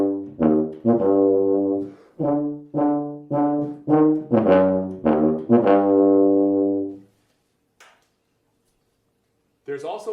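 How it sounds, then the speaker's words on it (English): Tuba playing a slow Star Wars melody in a concert hall setting, a run of loud, low sustained brass notes in phrases, then silence with a brief voice starting at the end. "Here's a little bit of Star Wars music that I like to play on the tuba."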